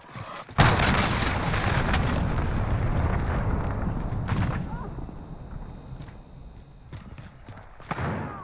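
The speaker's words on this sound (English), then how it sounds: "Enemy cruise missile incoming." A cruise missile strike erupts in Call of Duty: Modern Warfare as a sudden loud, close boom that rolls into a long rumbling tail, followed by scattered sharp gunfire cracks and game voice callouts.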